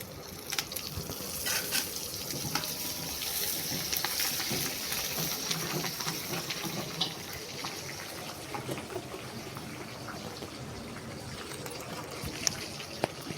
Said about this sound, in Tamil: எண்ணெய் நல்லா காஞ்சிடுச்சுங்க கருவேப்பிலை போடுறேங்க